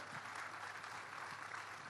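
An audience at a comedy and mimicry stage show in Lucknow claps in a steady, dense wash of applause, fairly faint and continuous across the whole moment with no voices over it.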